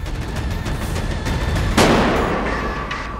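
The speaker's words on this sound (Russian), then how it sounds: "Он выстрелил на уно," A single sharp gunshot fired at a person wearing a bulletproof vest cracks out over steady background noise, with a broadband burst that decays slowly; no talking.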